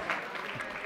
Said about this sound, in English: So big round of applause for the lady in the back, all right?